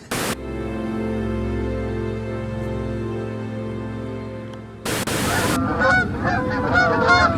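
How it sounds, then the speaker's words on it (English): A goose honks loudly and close by: a long sustained harmonic call, then after a short burst of noise a run of rougher, repeated honks. "Goose!"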